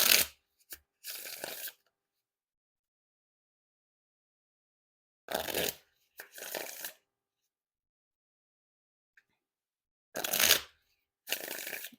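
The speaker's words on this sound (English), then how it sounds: "And now time for the Wiffle Shuffle or Bridge Shuffle." Freakshow playing cards are riffled and bridged three times, each burst a quick fluttering ripple followed by a softer cascade, separated by long silent pauses.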